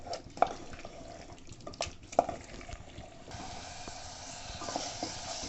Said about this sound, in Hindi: तो इसको हम 5 मिनट के लिए अभी मीडियम सिम पर हम इसको छोड़ेंगे।